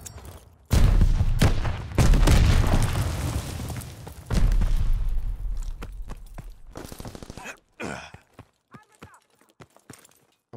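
A sticky bomb explosion in Call of Duty: Vanguard, a heavy booming blast followed by further loud bursts and scattered impacts that fade into sparse footsteps, with a voice talking over it.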